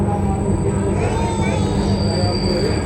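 A commuter train in Palembang rumbles steadily along the tracks with a constant loud roar and faint high wheel squeal, heard from inside a carriage.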